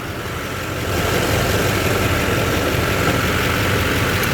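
A 2006 Chevrolet Silverado 2500 with the LBZ diesel idles steadily up close, a low, constant rumble that swells slightly after the first second and then holds even, with no talking.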